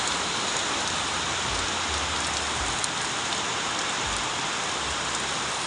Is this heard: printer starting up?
no